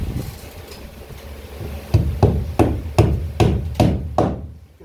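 Sharp hammer blows tacking plywood down during epoxy gluing, about eight evenly spaced strikes at close range, getting louder and quicker toward the end over a low background hum.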